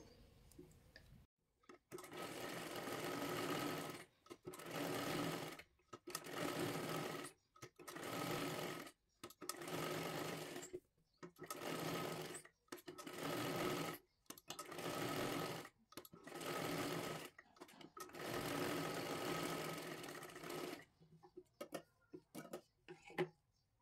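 Sewing machine stitching a full seam on a katori blouse, running in about ten steady bursts separated by short pauses, close and fairly loud, with no talking.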